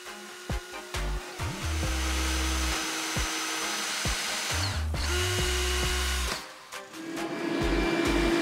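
A power drill fitted with a bit driving screws into a wooden tool drawer with acrylic parts, several loud close whirring bursts that rise and bog down under load, broken by brief pauses and clicks.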